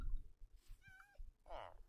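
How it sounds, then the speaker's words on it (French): A Minecraft cat gives a short meow in the middle, with other brief game sounds around it and a bit of low background noise. "Oh, il y a un chat."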